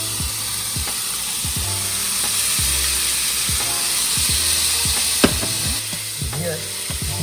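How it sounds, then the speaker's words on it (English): Pad thai noodles with sauce stir-fry in a hot pan, giving a steady loud sizzle and hiss punctuated by repeated scraping and tossing strokes of the utensil, with no talking. "You can hear that sizzle"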